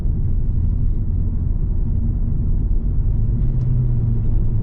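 A Cadillac BLS 2.8 V6 Turbo (Saab 9-3 Aero) in a driving video game gives a steady, loud low engine rumble throughout, with a slight rise in tone near the end as the car slows for traffic before bends.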